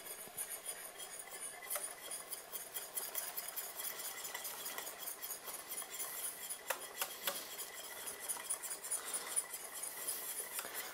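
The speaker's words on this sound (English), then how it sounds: "The key is very slow and whisk a lot." A whisk works cheese into a creamy alfredo sauce in a pan, giving steady, fast metallic scraping and ticking that stays soft and continuous, with no voices.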